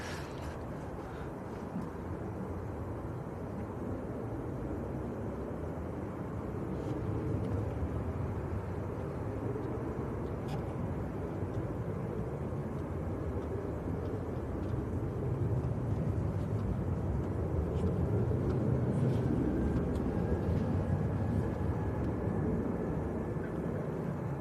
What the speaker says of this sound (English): British Airways and an EasyJet coming across.